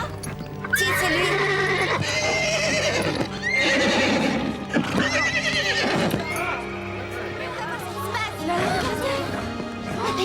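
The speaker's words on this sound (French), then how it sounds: "Ce n'est pas le cheval de Véronica?" Cobalt, Veronica's horse, whinnies loudly several times in close succession over clip-clopping hooves, with a voice speaking briefly among the calls.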